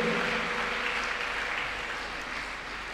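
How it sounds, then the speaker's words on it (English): A church congregation claps hands during praise and worship, a steady dense wash of applause held at even loudness throughout, with a faint sustained tone beneath. "Clap your hands unto God of the chosen."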